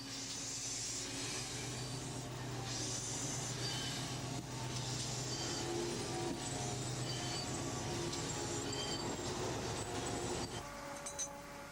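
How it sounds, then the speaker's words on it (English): A Great Western steam tank locomotive, number 4160, built in 1948 and running on the West Somerset Railway: a steady rumble with hissing steam and metallic clinks, continuous and moderately distant, over a low background hum. "Number 4160 was built after nationalization in 1948, but was based on Churchward's earlier tank locomotives."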